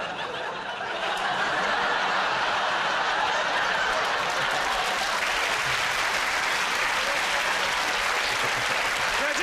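Studio audience applause at a TV comedy panel show taping, a dense, steady wall of clapping that swells in after a brief quieter start and holds loud, with a few chuckles mixed in.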